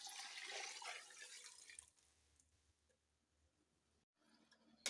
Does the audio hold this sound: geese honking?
no